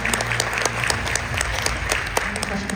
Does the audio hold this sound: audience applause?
yes